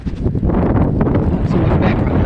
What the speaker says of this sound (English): It's windy too, so excuse the wind